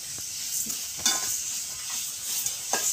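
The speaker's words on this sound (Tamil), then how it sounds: "மாமி வந்து வதக்கிட்டு இருக்கிறாங்க. வெங்காயம் வதங்க கொஞ்சம் உப்பு சேர்த்துக்கலாம்." Onions with a little salt sizzle steadily in a pan for tomato chutney, close by, with occasional scraping stirs of a spoon and no talking.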